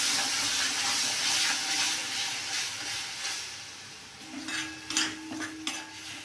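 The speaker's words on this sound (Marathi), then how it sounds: "या आता आपला वाटण तेलात व्यवस्थित परतून घेतला" Ground homemade masala paste frying in oil for a chickpea usal, a steady broadband hiss with scraping and stirring clatter growing louder toward the end, no talk.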